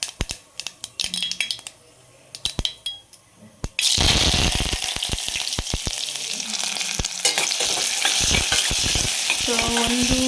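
Mustard seeds and curry leaves drop into hot oil: a few sparse crackles and pops, then a sudden loud, dense sizzle with sharp spattering snaps and a faint utensil clink near the end.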